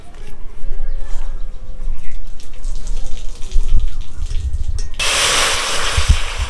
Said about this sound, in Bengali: টক ডালের জন্য আমি ডালটাকে ভালো করে ধুয়ে নেব।